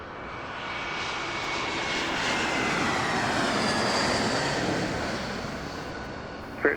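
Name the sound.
airplane taking off at Las Vegas airport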